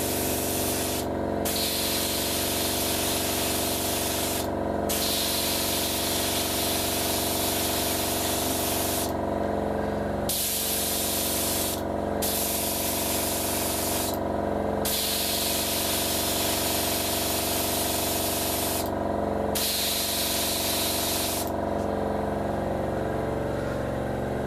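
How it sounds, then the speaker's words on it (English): An aerosol can of silver spray paint hisses in long steady bursts onto Revell F-15E 1/48 model kit parts, several sprays separated by brief pauses, close and continuous. "so I'm going to spray paint these now."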